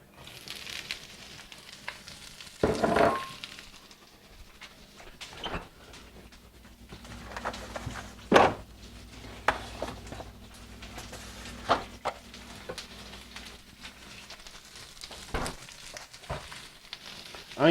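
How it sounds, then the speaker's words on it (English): Onions sizzle in olive oil in a hot pan, a soft steady frying hiss punctuated by occasional clanks and knocks of utensils against the pan. "Now let's start off with these onions."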